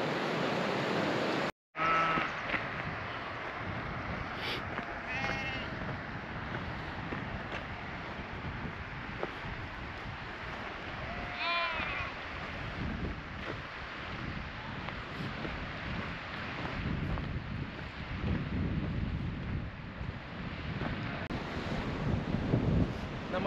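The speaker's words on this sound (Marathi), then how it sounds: "रॉकी मस्त धबधब्याचा आवाज" Waterfall tumbling over rocks near Gadsar lake on a Himalayan trek, a steady broadband roar of rushing water with wind buffeting the microphone, continuous and fairly close throughout.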